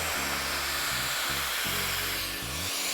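A hair dryer blows steadily and up close throughout a blowout, its motor whine shifting in pitch as the nozzle is moved and rolled along the ends of the hair.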